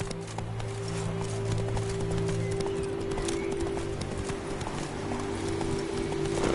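Roach, a horse in a video game, trots with a steady, even clip-clop of hooves under a low sustained hum, with a faint whinny-like tone in places and no talking.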